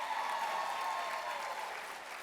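Applause from an audience at the SEAHO 2020 opening session rolls steadily through the whole stretch, a dense even patter of many hands with no one speaking.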